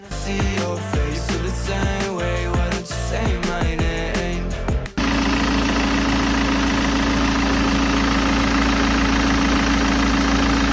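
Metallic clattering and knocks give way abruptly to a steady, loud idle from a BMW 320d E90's M47 diesel engine, with a persistent whining belt hum running underneath.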